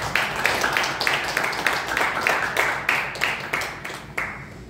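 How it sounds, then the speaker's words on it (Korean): A church congregation applauds a family's children on their birthday, a sustained round of clapping with rhythmic bursts over several seconds, a voice speaking faintly underneath. "박수로 축하하고 축하합니다"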